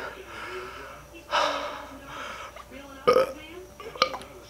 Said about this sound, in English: I feel like a burp's coming.